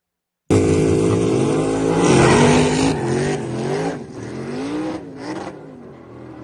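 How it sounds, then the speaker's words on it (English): Cars street racing: a loud engine suddenly roars up close and accelerates hard, its pitch climbing and dropping through gear changes, then fades off as it pulls away. "This is like true street racing right here."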